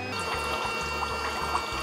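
Foot spa water bubbling, a continuous close fizzing and gurgling churn with a low pulsing hum underneath, alone without speech.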